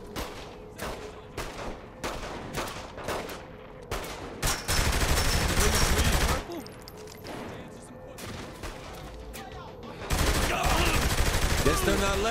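Gunfire in Saints Row: The Third Remastered: rapid, loud bursts of automatic fire with single shots in between and heavy sustained volleys, close and intense, with voices partly under the shooting.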